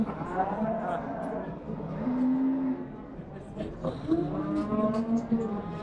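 Cattle lowing repeatedly at a busy Kara-Balta livestock market, several moos, some drawn-out, rising over a steady crowd murmur with people talking nearby.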